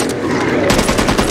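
Rapid gunfire in the co-op zombie shooter Back 4 Blood, a steady dense burst that grows louder and busier halfway through, close and continuous with no talk over it.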